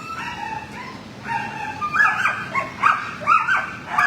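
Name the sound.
dog at animal shelter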